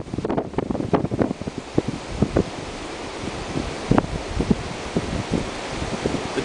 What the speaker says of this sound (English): It's just windy as shit.